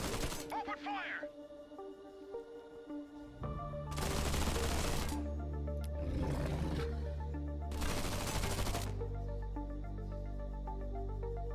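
Rapid bursts of gunfire ring out in the strategy video game Zephon. Three broadband volleys rise over a steady musical soundtrack, each lasting about a second.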